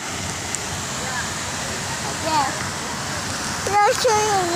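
Constant rushing water fills the background, like a stream or falls, while a voice talks over it.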